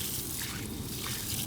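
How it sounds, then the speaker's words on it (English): Water is poured onto concrete at the base of a hammock post, making a short, steady splashing hiss that stays close and even for its brief length. "I'm going to apply a little bit of water to the bottom"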